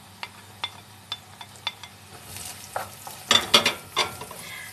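Onions frying in a pan with butter added, cooking for a traditional Shiraz rice dish: a series of distinct stirring clicks and scrapes, then a louder sizzling burst toward the end, close by with no talk.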